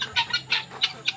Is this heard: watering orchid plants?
no